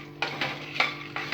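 A spatula scrapes tamarind around a hot pan as it is sautéed dry for chutney powder, making four rhythmic, close stirring swipes over a low background hum.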